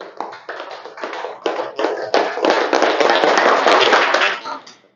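A classroom group claps in short, uneven bursts that build into fast, sustained, enthusiastic applause, fairly close and loud, then tapers off abruptly.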